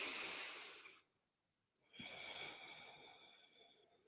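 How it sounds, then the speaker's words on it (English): A deep, full breath taken during a yoga session, with a long airy exhale fading to near silence, then a fresh breathy inhale rising after a short pause, close and soft. "One more full breath."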